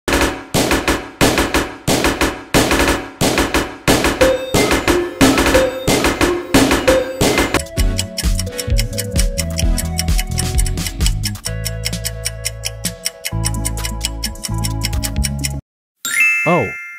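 Dientes, a monster from the video game My Singing Monsters, sings a loud repetitive rhythmic pattern of sharp percussive hits with bright tinkly tones, then shifts into a denser layered tune before a brief pause and a short final burst.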